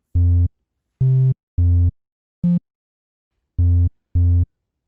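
Six short, punchy synthesized bass notes play in a choppy rhythm with silent gaps between them, buzzy and distorted.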